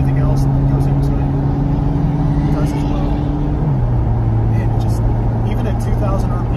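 A 2023 Chevrolet C8 Corvette Z06 holds a steady, droning engine hum at about 2,000 RPM, heard from inside the car while driving, loud and continuous, with the pitch dropping slightly midway through.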